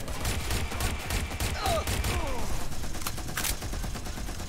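In Watch Dogs Legion, an automated turret fires on enemies with a steady, dense rattle of rapid shots and rumbling impacts that runs continuously throughout, loud and close.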